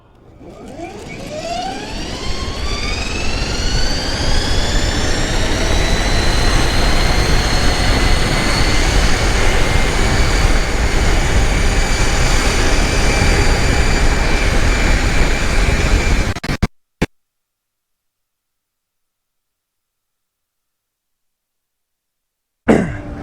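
MBoards Endurance+ electric skateboard at full throttle climbing a hill at high speed, a loud steady whine rising in pitch over roaring wind and road rumble for about sixteen seconds before cutting off abruptly.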